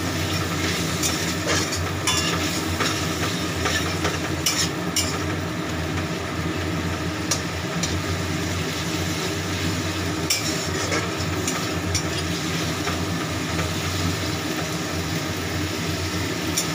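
Spice masala being sautéed in a pan for dal, a steady close sizzle with scraping stirring strokes running continuously throughout, no talking.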